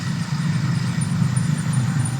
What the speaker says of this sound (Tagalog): May mga dumadaang motor-motor.